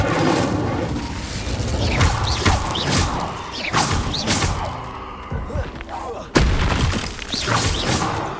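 Incendio fire spell in Hogwarts Legacy, cast amid other spells: whooshing bursts and booming impacts with crashing thuds, including a sudden loud blast near the end, over a busy game soundtrack.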